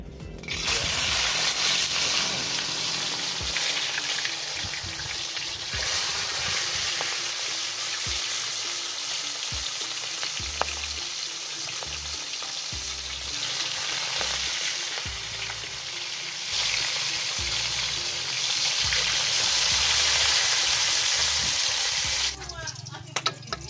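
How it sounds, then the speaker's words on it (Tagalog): Fish frying in hot cooking oil in a home kitchen, giving a steady loud sizzle and crackle throughout, with clinks and stirring noises and voices talking underneath. "Kaprito na tayo ng ating isda."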